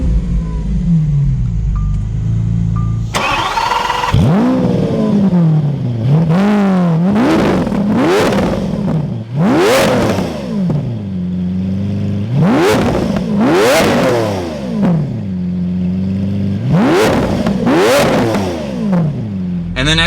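Lamborghini Aventador LP700-4 V12 starting with a sudden loud burst, then revving repeatedly in sharp rising and falling sweeps, several throttle blips in a row, close and loud with no talk.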